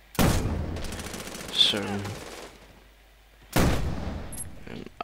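Gunfire from the shooter game Warfighter: two loud, sharp shot bursts with ringing tails, a few seconds apart, and a brief spoken word between them.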